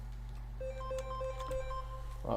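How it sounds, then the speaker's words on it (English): A short electronic ringtone of steady repeating beeps plays over a low hum, ending with a louder burst near the close. "that's my alarm."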